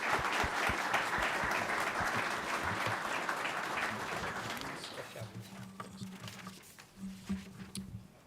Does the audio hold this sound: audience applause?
yes